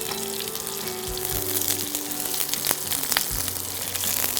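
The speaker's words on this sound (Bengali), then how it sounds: "এটা আমি ফ্রাই করি" Cashews and almonds fry in a pan, giving a continuous close sizzle with scattered pops and crackles throughout.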